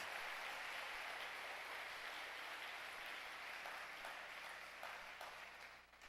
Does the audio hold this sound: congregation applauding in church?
yes